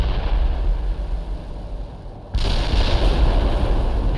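Artillery fire support strike called in by Rangers in the World in Conflict war game, a sustained low rumble of distant shelling that jumps suddenly louder partway through into a dense barrage.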